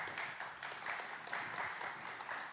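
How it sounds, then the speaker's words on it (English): An audience at a tech summit startup pitch session applauds in a steady, dense wash of clapping, fairly faint and distant, with no talk over it. "let's give a big applause to Stefan Hermann"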